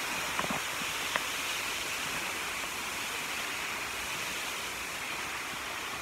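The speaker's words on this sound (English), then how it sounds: "We found the waterfall." A waterfall in a park rushes as a steady, even roar of water that carries on unbroken throughout, with a couple of faint clicks near the start and no voices.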